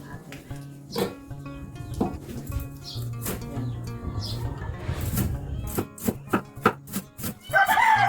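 Knife chopping fresh oregano leaves on a board, a series of sharp, irregular chops growing quicker and closer together, over a background of murmured talk and a dog barking.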